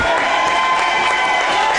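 Loud, steady crowd roar fills a high school basketball gym during a Steamboat Sailors game against Battle Mountain, a dense wash of cheering voices and noise heard close from among the fans for the whole moment.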